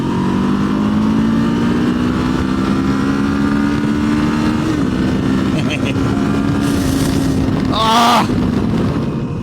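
A Kawasaki KLE500 adventure motorcycle riding along a road with a steady engine drone that shifts pitch as it downshifts near the end, with a brief rev burst; a rider talks over the engine noise.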